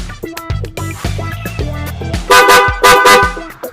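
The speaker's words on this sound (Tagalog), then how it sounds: "Mula dito sa Storm na busina." Horn of an NXT Storm XR vehicle honking, with rapid beeping bursts followed by two loud, sustained blasts close by.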